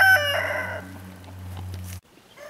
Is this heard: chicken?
yes